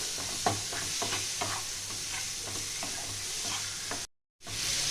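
Spice masala for raw banana kofta curry is stir-fried in a pan, with soft repeated scraping strokes over a steady low sizzle. The sound cuts out briefly near the end, then the sizzle resumes.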